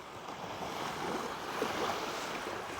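Sea waves wash steadily at Rommel Lagoon on a rough day, a continuous broadband surf roar with some wind, with no voices.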